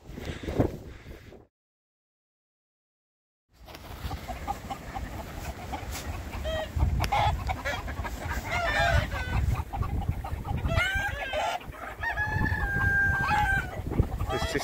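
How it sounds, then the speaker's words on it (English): Chickens cluck busily close by on the Pennine Way trail, with a rooster crowing among them, after a brief moment of silence near the start. "There's just chickens everywhere."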